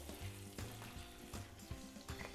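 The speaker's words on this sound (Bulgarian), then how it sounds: "На нейно място ще добавим чушките и чесъна." Peppers and garlic frying in butter, a steady sizzle with repeated stirring scrapes and clatters at a close, even level, alongside other kitchen sounds.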